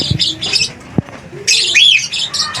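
African lovebird chick with splayed legs chirping, a few close, high, bright chirps and squeaky calls in short bursts, with slight handling noise.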